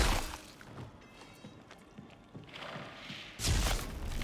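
In Warhammer 40,000: Darktide, a thunder hammer thuds into enemies in a string of dull, scattered impacts. A heavier, louder crashing burst comes near the end. The hits sound fairly faint overall.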